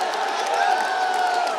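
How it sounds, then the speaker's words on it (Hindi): A large protest crowd at Jantar Mantar outside Parliament in Delhi chants Vande Mataram with clapping, heard as a dense, steady roar of many voices with no individual claps standing out. "देखिए वंदे मातरम के नारे लग रहे हैं, वंदे मातरम तालियों के साथ"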